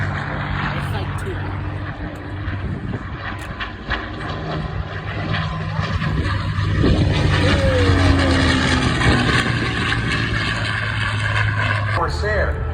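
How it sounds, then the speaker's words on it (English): Corsair propeller fighter with a propeller 13 feet 6 inches across makes a loud low flyby, its engine roar building steadily and peaking near the end, with people talking over it. "Corsair"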